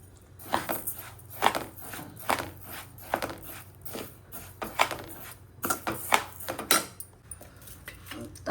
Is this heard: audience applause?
no